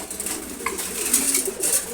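Pigeons, a pair of khaki birds among others, coo softly while feeding on their morning food, a low murmuring call repeating under steady rustle and ambient noise.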